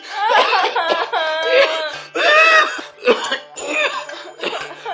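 A man coughs over and over in harsh, close bursts, with short gaps between fits and a few throaty, laugh-like catches.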